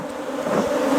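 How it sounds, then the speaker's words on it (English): Honey bees swarm around an opened beehive with a dense, close, rising buzz. "the bees are getting aggressive"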